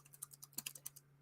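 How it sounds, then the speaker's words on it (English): Crisp clicks of typing on a computer keyboard, about a dozen fairly even keystrokes in a quick rhythm, close and quiet over a steady low electrical hum. "guys can listen to the sound of my keyboard"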